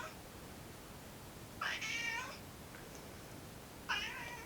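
A pet cat gives two separate meows a couple of seconds apart, the first longer and the second shorter, heard fairly close over a quiet, hissy room background.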